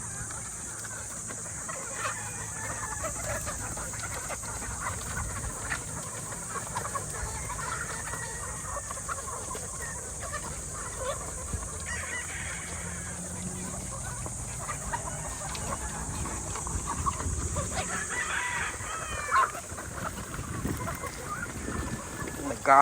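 Growing chicks and chickens cluck and peep on an outdoor range, a steady background of soft bird calls under a constant high hiss of insects or wind, with people talking at times.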